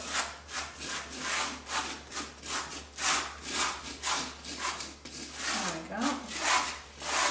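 A trowel pulls lime plaster containing small pebbles across a wall in steady, repeated rasping strokes, close by and moderately loud, continuing rhythmically throughout.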